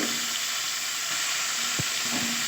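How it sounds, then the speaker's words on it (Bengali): Meat and fish frying with spices for mixed fried rice give a loud, dense, continuous sizzle up close, with one or two brief knocks of a utensil. "এবার দিয়ে দেবো মাংসগুলো মাছ আর মাংস দুটোই দিয়ে দেবো"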